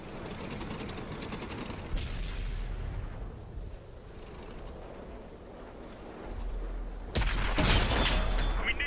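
Centurion 7/1 tank cannon shots in World of Tanks on Xbox: two sharp broadband blasts, one near two seconds and a louder, longer one around seven seconds, over a steady rumbling battlefield background with no talk.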